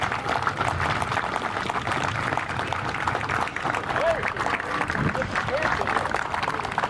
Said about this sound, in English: Please, your applause to the Best of Show American Stutz.